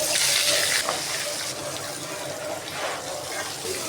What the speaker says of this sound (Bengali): এই মাছটা আমি সুন্দর করে ভেজে নিলাম